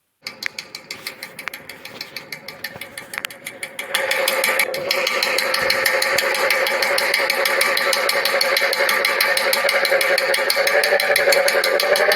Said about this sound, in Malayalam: ബുള്ളറ്റ് എടുക്കുക. അതിനുശേഷം അതിൻ്റെ സൗണ്ട് ഞാൻ ഒന്ന് കേൾപ്പിച്ചതാണ്.